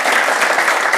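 Studio audience clapping together in a dense, steady burst of applause, loud and close throughout.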